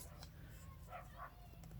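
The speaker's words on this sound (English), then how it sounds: "The dogs are barking." Dogs bark outside on a warm spring day in Wisconsin, a few faint, distant yips and barks against a noisy low background hum.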